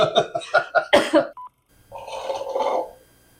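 A run of five or six sharp, rapid coughs close up, followed after a brief pause by a rougher, hoarse throat-clearing cough.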